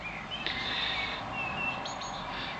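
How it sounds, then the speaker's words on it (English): Several birds chirp and call in the evening among leafy trees, thin high tweets and short whistles scattered over a steady hiss of background noise, fairly faint and distant, with no talking. "So the birds are singing beautifully,"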